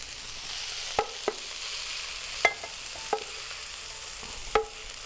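Vegetables for a vegan tofu scramble frying in a pan, a steady soft sizzle broken by several sharp clicks and scrapes of stirring, close and moderately quiet, without speech.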